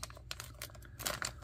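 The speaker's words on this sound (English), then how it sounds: "let me get some scissors and open this thing up." Charger packaging for a Radiolink CB86 Plus charger being cut open with scissors, giving a quick run of close, crisp snips and crinkly plastic rustles in irregular bursts with no talking.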